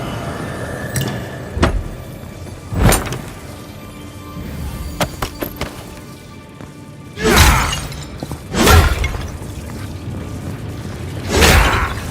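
A charged bomb goes off in the fantasy video game Avowed, several loud sharp blasts with crackling shatter, spaced irregularly across the stretch with quieter clinks and rumble between them, no talk.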